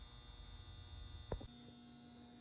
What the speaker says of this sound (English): You can hear the battery charger humming.